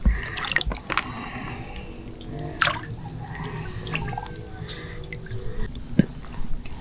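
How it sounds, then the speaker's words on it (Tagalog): Water splashing and dripping at a quiet spot during a dive for bara-bara and bangkalan shellfish in Capiz, with irregular soft splashes and drips at close range, a few sharper splashes standing out, and no talk. "Saka yung kalabsaw ng tubig."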